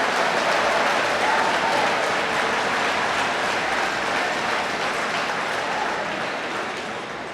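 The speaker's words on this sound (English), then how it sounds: "Let's give them all a round of applause." Sustained applause from a large crowd, a dense, steady wash of clapping that holds for several seconds before slowly easing off.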